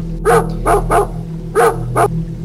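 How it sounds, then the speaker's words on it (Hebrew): A dog barks at a door in the dead of night during a tornado warning, five sharp, fairly close barks in two bursts, over a low steady hum. "נביחות של סם לאיזו דלת העירו אותי."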